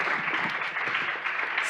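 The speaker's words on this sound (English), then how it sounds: "Round of applause to our panel." A conference audience at a journalism panel event gives the panel a round of applause. The clapping is dense and fairly loud, holding steady for the whole moment with no talk over it.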